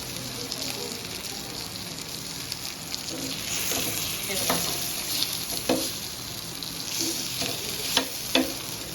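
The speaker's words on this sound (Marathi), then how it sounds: "आता ही आपली एका साईडने फ्राय झालेली आहे तर मी आता ही पलटी करून घेते" Pieces of fish sizzle steadily in a hot frying pan with a constant hiss, broken by a few sharp clicks and scrapes as the pieces are flipped, with faint background voices.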